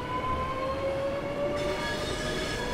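Electric multiple unit from the Southeastern High Speed line in the Train Sim World 2 video game, running at speed with a steady rumbling roll of wheels on track and a sustained high motor whine that slowly rises in pitch, with no talk.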